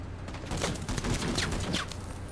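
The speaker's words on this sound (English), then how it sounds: "We are under heavy fire!" Heavy gunfire rattles through a firefight in the tactical video game Menace: dense, overlapping bursts of shots form a steady fusillade for the whole stretch, with sharp cracks standing out above a continuous rumbling bed.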